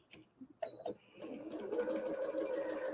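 A sewing machine starts up after a few handling clicks and stitches a quilt block seam, its whirring motor rising to a steady, fairly close hum for the rest of the clip.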